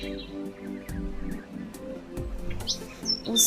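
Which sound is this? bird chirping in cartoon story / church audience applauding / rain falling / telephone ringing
bird chirping in cartoon story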